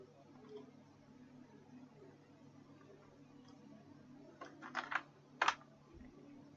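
Soft, quiet clicks of typing on a computer keyboard, ending in a few sharper, louder keystrokes that sound like the enter key being pressed, over a faint room hum.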